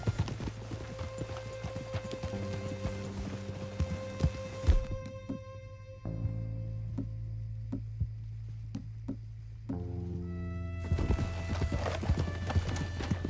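A horse gallops in Red Dead Redemption 2, with rapid rhythmic hoofbeats running throughout over a sustained game music score, steady and prominent.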